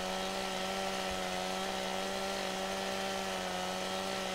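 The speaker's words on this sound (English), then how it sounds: "we are using the Stihl chainsaw, very nicely done chainsaw, and it does work pretty well" A Stihl chainsaw cuts into a tree in Farming Simulator 17, its engine holding a steady, droning whine with no pauses, alone and fairly close.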